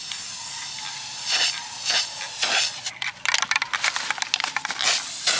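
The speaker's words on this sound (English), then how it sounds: "Let me go ahead and spray." Spray paint can hissing onto a TV stand in a living room, several short bursts at first, then a rapid series of sputtering, choppy sprays, close and fairly loud with no talking.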